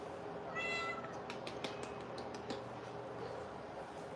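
A pet cat meows once, short and clear, in a home kitchen during pasta cooking, followed by faint ticking and clicking amid low room noise.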